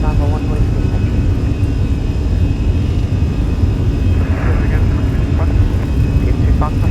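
An Airbus A320ceo in the Fenix flight simulator takes off from Dublin's Runway 28L at dawn, its engines roaring steadily and loud throughout, while cockpit and radio voices talk over the drone.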